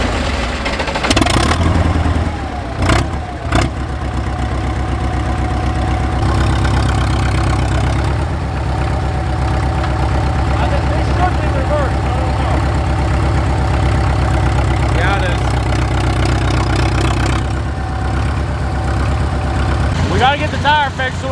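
An old tractor engine, running after its first start in ten years, idles with a heavy, steady low rumble and some clattering, while people talk close by over it.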